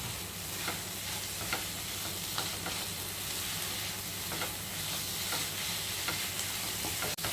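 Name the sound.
stirring egg curry masala with coconut oil in pan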